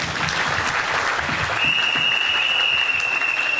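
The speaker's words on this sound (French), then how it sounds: "Acclamons pour le Seigneur." A church congregation applauding together, steady dense clapping throughout, loud and close, with a faint sustained tone entering partway through.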